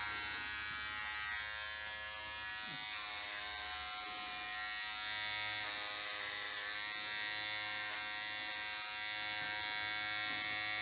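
An electric razor shaves a man's head with a steady, continuous high buzz that hums close by for the whole stretch, its pitch wavering slightly as it moves over the scalp, with no talking.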